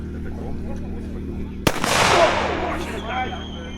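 A single sharp bang from a hunter's noise signal imitating a gunshot cracks out against a steady low background hum, followed by a brief hissing, fading tail.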